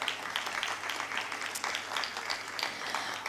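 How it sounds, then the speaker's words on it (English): A school audience at a cultural extravaganza applauds the teachers, soft, continuous clapping from many hands heard at a distance over a low hum. "They do need a very big round of applause."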